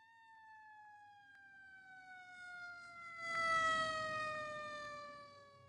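An emergency vehicle siren wails in a steady electronic tone as the vehicle approaches, growing louder and rougher near the middle, alone without any talk.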